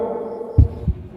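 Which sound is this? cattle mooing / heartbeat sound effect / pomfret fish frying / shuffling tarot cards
heartbeat sound effect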